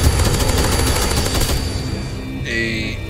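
Rapid automatic gunfire from a video game fills the first half with dense bursts of shots, then tapers off into quieter game sounds and a brief high-pitched tone near the end.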